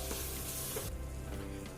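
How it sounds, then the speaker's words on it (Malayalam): Mint and coriander leaves are stirred into Chettinad chicken biryani masala in a pan, giving a steady, close sizzle with brief scraping from the stirring. "മിന്റ് ലീവ്സ്, മല്ലിയില ഇത് ചേർത്ത് നന്നായി ഇളക്കുക."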